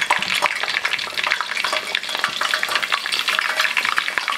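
Fry bread sizzling and crackling in hot oil, a dense, steady frying hiss with constant small pops, close and loud, with no talking.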